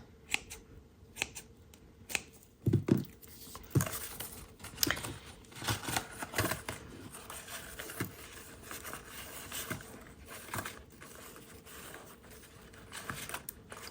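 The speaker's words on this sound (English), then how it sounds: "we're going to take some white seam binding and we're just going to cut 2 pieces" Scissors snip through white seam binding in a run of crisp, close cuts, each short snap followed by faint rustling of the ribbon, with no talking.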